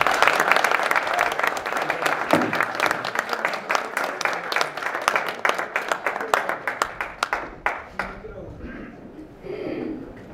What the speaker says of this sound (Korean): 김석기 의원님을 뜨거운 박수로 맞이해 주시기 바랍니다